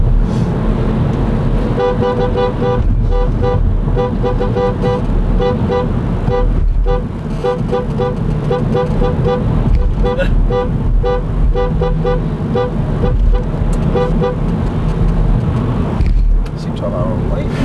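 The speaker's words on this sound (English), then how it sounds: "You're actually honking at the people." Repeated car horn honks sound from a car in the 2006 Gumball 3000 rally in Belgrade, a pulsing, musical-sounding toot over loud engine and road noise. People talk inside the car throughout.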